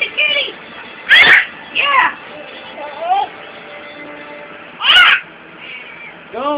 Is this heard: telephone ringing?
no